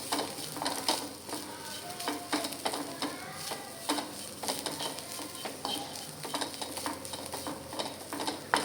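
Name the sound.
stirring grated coconut in ghee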